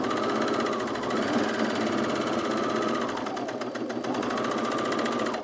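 A sewing machine runs continuously while stitching a color-block top with piping and pleats, giving off a close, steady whirring hum with rapid needle ticks throughout.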